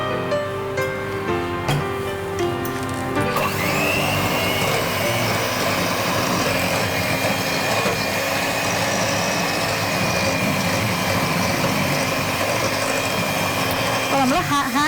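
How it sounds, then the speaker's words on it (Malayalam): Hand blender beating a sieved icing sugar mixture: a loud, continuous motor whine that starts abruptly after a few seconds and runs steadily to the end, with someone talking over it. "നമ്മൾ ഹാൻഡ് ബ്ലെൻഡർ ഉപയോഗിച്ചിട്ടാണ് ഇങ്ങനെ നന്നായിട്ട് ബീറ്റ് ചെയ്തെടുക്കുക, പതപ്പിച്ചെടുക്കുക."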